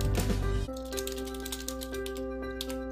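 Keyboard keys being typed during a software demo, a short burst of quick clicks up close then lighter scattered taps over a steady hum, with no talking.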